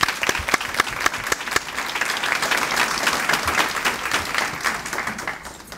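A crowd at a youth works leaders reception applauds local businesses, with loud clustered claps at first settling into a dense, steady roar of clapping that fades slightly toward the end.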